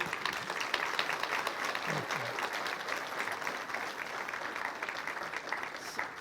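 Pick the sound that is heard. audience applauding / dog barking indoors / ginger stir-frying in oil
audience applauding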